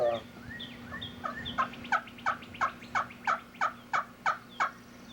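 A call imitates a turkey hen's yelp: about ten sharp, evenly spaced notes that grow louder and more regular, standing alone and close.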